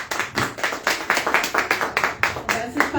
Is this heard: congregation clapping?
yes